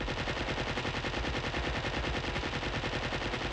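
Sustained rapid gunfire from sentry enemies in Duke Nukem 64, a dense, continuous hail of shots at steady loudness with no pauses, filling the whole stretch without any talking.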